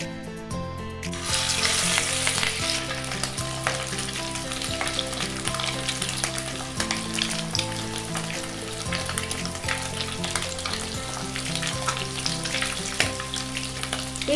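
Marinated katla fish pieces frying in hot white oil, a loud sizzle that bursts in after a quiet start and crackles on steadily, with occasional knocks and spatters close by.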